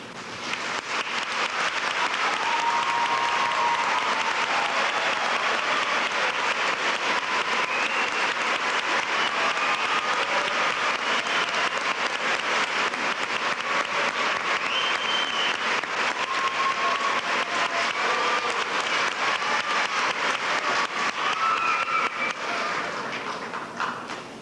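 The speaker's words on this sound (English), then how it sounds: "I welcome your applause for them at this time." A large audience at a high school graduation ceremony claps in sustained, dense applause that holds steady for a long stretch before tapering slightly at the end.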